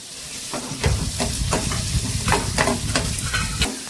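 Dried red chilies frying with lentils and onion in a pan for ragi adai, a loud dense sizzle with repeated crackling pops and stirring, no voices.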